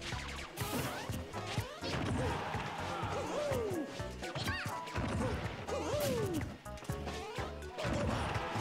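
Forward smash attacks land in Super Smash Bros, with sharp thwacking hits and crashes scattered through busy game sound effects and rising character cries, loud and close throughout.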